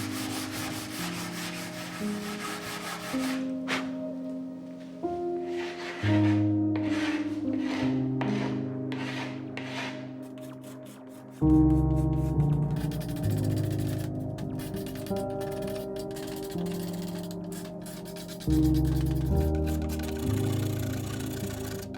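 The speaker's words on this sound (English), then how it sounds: "For most of the sanding, I'll start with 150 grit sandpaper and work my way up to 180 grit sandpaper" A SurfPrep 3x4 sander works over the old painted finish of an antique dresser, moving from 150 toward 180 grit, giving a steady, loud abrasive whir and rub with a motor hum that shifts in pitch and intensity between passes.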